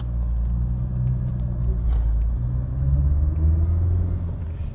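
A Mercedes-Benz C-Class W202 car drives with a steady low engine rumble and road noise from inside the cabin, swelling slightly as it accelerates.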